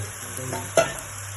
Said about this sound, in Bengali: এবার ম্যারিনেট করা চিকেনটা অ্যাড করে দেওয়া হলো